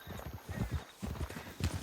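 Horse hooves clop in a rapid galloping rhythm in Red Dead Redemption 2, fairly faint, with muffled background noise.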